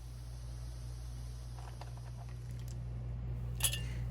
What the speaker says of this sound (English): you can hear the air conditioner running in the background